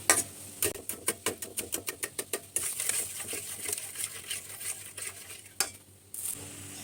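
Cooked jaggery is stirred in a pan off the heat to cool it for coconut sweets, giving a rapid series of close scraping strokes followed by slower, softer scrapes and faint sizzling.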